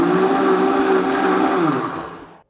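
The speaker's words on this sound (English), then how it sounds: "So let's blend this up." A countertop blender whirs loudly and steadily while blending keto snack ingredients, then winds down and cuts off near the end.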